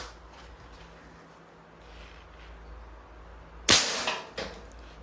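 A Crosman MagFire Mission break-barrel Nitro Piston airgun fires once, a sharp loud crack after a quiet stretch, followed by a couple of smaller mechanical clicks.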